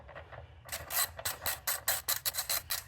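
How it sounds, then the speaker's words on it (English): A 10 mm socket ratchet works loose a bolt during a purge valve replacement on a 2019 Chevrolet Traverse, giving a quick series of sharp, close clicking pawl strokes after a faint start. "we got to unscrew this with this. This is a 10 millimeter socket right here."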